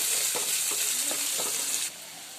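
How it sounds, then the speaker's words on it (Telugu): Chopped onion and green chillies fry together in a pan, a close, bright hiss with a few soft stirring scrapes, the sizzle dropping off abruptly near the end; no talking. "ఉల్లిపాయ పచ్చిమిర్చి నేను రెండు కలిపే వేసేసాను మంచిగా ఉల్లిపాయ గోల్డెన్ బ్రౌన్ వచ్చేంత వరకు ఫ్రై చేసుకోవాలి"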